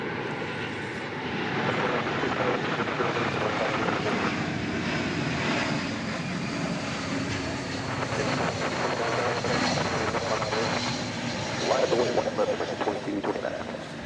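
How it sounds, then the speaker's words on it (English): American Airlines Airbus A321 jet at DFW Airport, a steady broad roar of engine noise that holds throughout at moderate distance and swells slightly near the end. "comes this Airbus A321."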